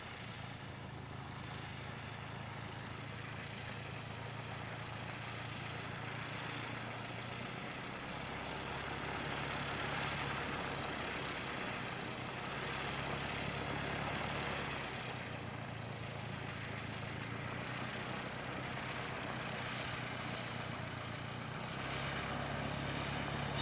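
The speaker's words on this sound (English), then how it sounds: "this Cessna 172, especially when it's doing their warm-up, their engine warm-ups and idling" A Cessna 172 light propeller plane at an airport runs its engine through warm-up and idle, a loud steady drone with slowly swelling and easing rumble throughout, no voices.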